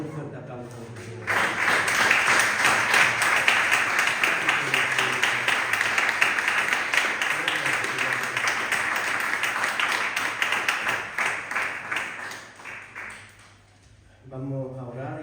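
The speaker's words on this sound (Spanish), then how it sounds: "Dale un fuerte aplauso al Señor." Church congregation applauding together, a dense steady wash of clapping that swells in quickly, holds for about eleven seconds, then tapers off into a quieter stretch near the end.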